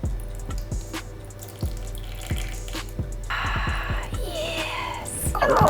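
Water pours steadily into a sourdough starter sitting on a kitchen scale, a measured 50 grams. Soft thuds are heard first, then a continuous close splashing trickle builds and runs to the end.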